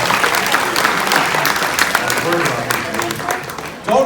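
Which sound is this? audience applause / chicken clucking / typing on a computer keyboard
audience applause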